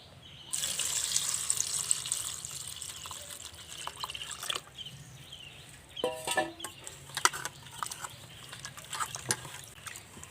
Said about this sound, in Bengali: এবার আমি পরিষ্কার জল দিয়ে ধুয়ে নেব।